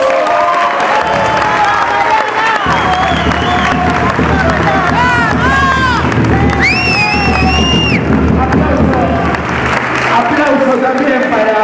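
A crowd at a political rally in Ituzaingó applauds and cheers loudly and continuously, with rising shouts and whistles over the clapping and voices murmuring and calling out throughout.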